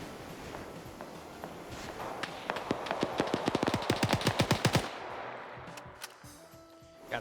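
Gunfire in a NATO versus Russia military video game match, with scattered shots building into a dense run of sharp, rapid bursts before cutting off, then faint distant pops and thuds.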